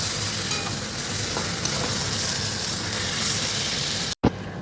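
Chicken frying with spices in a pan hisses in a constant, loud sizzle while it is stirred, with faint scraping; the sound cuts out for an instant near the end, then resumes.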